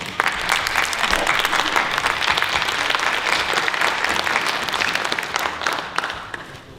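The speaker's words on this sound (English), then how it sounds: "Would you stand up and give Don a round of applause?" Warm, loud round of applause from the audience at a Lubbock High class of 1963 reunion, steady clapping for several seconds before tapering off at the end.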